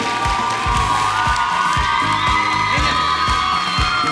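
A school talent-show audience cheers and shouts for the contest winner, a loud, steady wash of crowd noise with excited children's voices and whoops, most likely with clapping underneath, sustained throughout.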